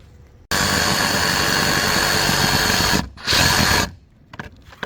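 A Sawzall reciprocating saw cuts into deck wood, a loud buzzing rasp held for a few seconds, briefly pausing, then a shorter second burst before it stops; no talk.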